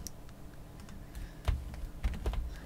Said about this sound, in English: so Ctrl J or Command and J on your keyboard